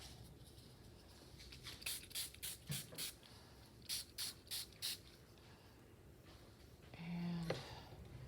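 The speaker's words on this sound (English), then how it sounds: "I'm just going to spray it in a few spots where there's not too much color already" Quick hissing spray bursts from a spray bottle, five in a row and then four more after a pause, fairly soft against quiet room noise.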